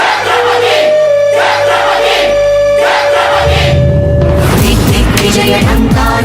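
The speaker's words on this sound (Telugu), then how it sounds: "అది చూసి జనం ఛత్రపతి ఛత్రపతి అని శివాజీని పొగిడారు" A crowd chants in unison during a fight scene from the Telugu action film Chatrapathi, loud and rhythmic over a dramatic orchestral score that swells into heavier, booming music near the end.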